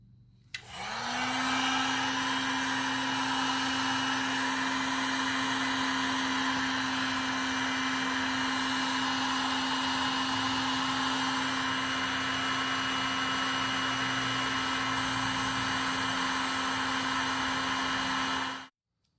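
Wires joined with a solder splice are heated for a camping solar panel fit-out, with a steady airy blowing roar running for about eighteen seconds before cutting off abruptly.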